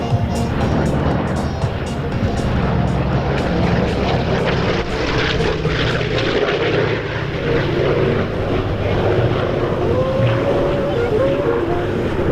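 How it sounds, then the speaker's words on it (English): Two P-51 Mustang propeller fighters roar past together in a flyby at an airshow, a loud, sustained engine drone that swells and holds steady throughout. "This is our last two ship pass with the P-51s."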